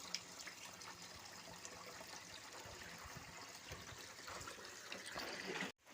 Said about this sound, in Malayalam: ആദ്യം ഗൈസ് അക്വേറിയത്തിൽ വെള്ളം നിറയ്ക്കട്ടെ.